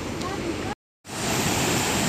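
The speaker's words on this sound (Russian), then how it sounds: "Ну, вот сам водопад." The waterfall at Rio Celeste in Tenorio Volcano National Park, Costa Rica, roars as a loud, steady rush of water, broken by a brief cut to silence before resuming.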